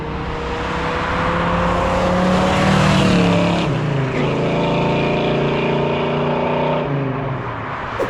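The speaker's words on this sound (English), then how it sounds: "now we hear the AC compressor kick on." AC compressor kicking on in a 1967 Chevrolet Chevelle SS convertible, a steady, loud mechanical drone with a shift partway through where the tone steps up and settles into a new hum alongside the running engine.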